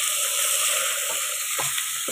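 Curry leaves fry in hot oil in a pan for a vegetable biryani, giving a steady bright sizzle with a few soft stirring scrapes. The sound is close and continuous, with no voices.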